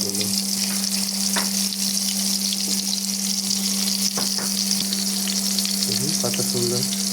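Stuffed brinjals frying in hot oil in a pan, a loud, steady sizzle and crackle that continues throughout with occasional sharp pops and no talking.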